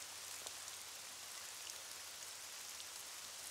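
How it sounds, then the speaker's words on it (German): Rain falls steadily in a cartoon, a soft continuous hiss of drops on surfaces with occasional faint patters, with no voices. "Und wenn wir den Regen einfach nicht beachten, vielleicht geht er dann schneller wieder weg."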